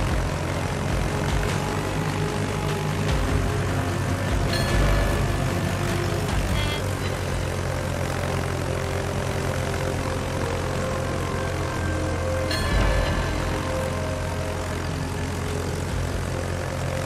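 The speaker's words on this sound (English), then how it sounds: "Fighter airborne." A fighter plane's propeller engine drones continuously in a naval combat video game, loud and steady, with a few faint thuds mixed in.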